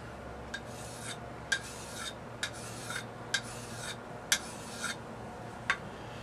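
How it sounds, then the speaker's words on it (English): A blade is lapped on a fine diamond sharpening stone: soft, rhythmic rasping strokes, each ending in a faint metallic tick, repeated about eight times at close range over quiet room noise. "I'm going to take my diamond stone. This is a fairly fine grinding stone. Diamond. I'm going to lap it down."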